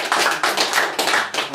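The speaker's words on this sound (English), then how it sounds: "More applause, please, for a wonderful storytelling of" Dense applause from an audience after a storytelling performance, a steady wash of many hands clapping with slight swells, no voices over it.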